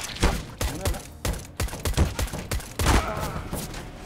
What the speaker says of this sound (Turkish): Ben şuradan bir kişi vuruyorum.